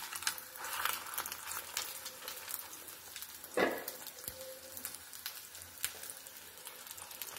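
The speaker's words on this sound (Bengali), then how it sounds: "এবার তেল গরম হয়ে গেছে, দেখতেই পাচ্ছেন। এবার এটার মধ্যে রুটি দিয়ে দেব।" Leftover roti frying in hot oil in a pan, with onion added on top: a steady close crackle and sizzle of spattering oil runs throughout, with one brief louder burst midway.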